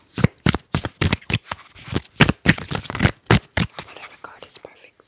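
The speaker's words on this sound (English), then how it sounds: "Okay, let's shuffle." Tarot cards shuffled by hand in a close, intimate setting, a quick run of crisp riffling slaps and flicks, each burst sharp and near, with short pauses between.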